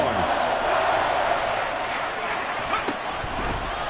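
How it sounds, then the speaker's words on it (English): Football stadium crowd roaring during a game, a dense, sustained wash of cheering under a commentator's voice. "This crowd turning up the decibel level."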